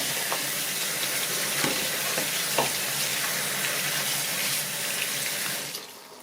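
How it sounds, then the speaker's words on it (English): Steady stream of tap water splashes over a shower head being rinsed clean of limescale, a continuous broadband hiss with small knocks, fading out at the end. "I'm just going to rinse this off."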